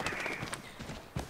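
Horse hooves clip-clop in the Assassin's Creed III video game, a short run of soft, fairly close hoof strikes over steady game ambience, ending in a slightly louder thud.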